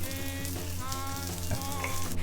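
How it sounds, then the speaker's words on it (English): Chilies and garlic sizzle in a pan for aglio olio, a close, dense frying crackle with stirring scrapes over a steady hum. "So now that we've had our chilies and garlic in"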